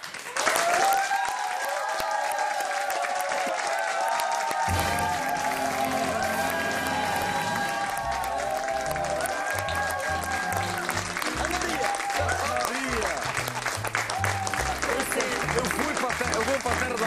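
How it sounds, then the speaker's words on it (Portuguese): A television studio audience applauds as a popular singer is welcomed, loud sustained clapping mixed with crowd noise and music, with a voice talking over it. "para receber com um forte aplauso"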